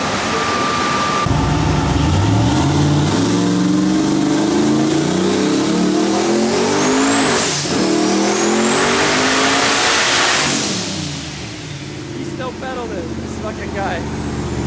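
An LS-swapped Mazda RX-7 revs hard through the gears, its V8 note rising in pitch, dropping at each shift, then climbing again before easing off near the end, loud and close, with people talking.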